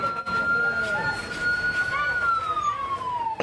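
A wailing ambulance siren sweeps up and down, loud and close, as an ambulance carries wounded people to hospital in Khan Yunis. Traffic and street noise sit underneath.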